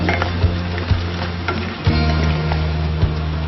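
Fresh tomatoes drop into a hot frying pan of mechado, giving a steady loud sizzle with a few sharp bursts as pieces land and are stirred.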